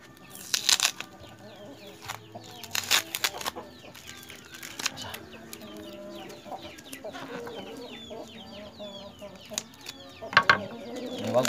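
Free-roaming hill chickens cluck softly nearby, with scattered short calls and a few sharper squawks over a quiet outdoor background.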